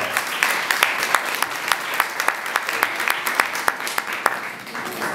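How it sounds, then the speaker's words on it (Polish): A hall audience claps warmly at a 2018 Polish Independence Day centenary event before a Chopin recital. The applause is thick and continuous, with crisp individual claps popping out near the listener. "Wielkie brawa."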